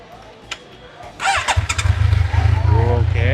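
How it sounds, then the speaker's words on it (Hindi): A Kawasaki Ninja ZX14R motorcycle cranks over briefly and fires up, settling into a deep, bassy, throbbing idle close by after a couple of clicks. "ओके, ये स्टार्ट हो गई है बाइक"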